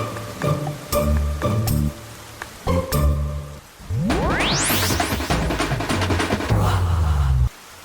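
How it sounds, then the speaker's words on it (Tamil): Steady rain falls outside a hotel, a loud and continuous wash of patter that runs the whole time, layered with tonal ringing sounds and a rising sweep partway through. "இந்த மழையோட ஒரே எரிச்சல்."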